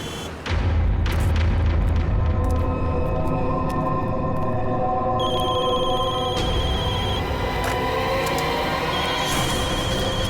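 Several phones ring at once with many incoming calls in a TV drama scene after an earthquake, their layered electronic tones sounding continuously and loud over a low rumbling backdrop.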